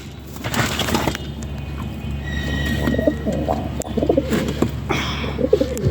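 Several pigeons coo close by in soft, repeated throaty rolls that overlap each other over a steady background rumble, with no voices.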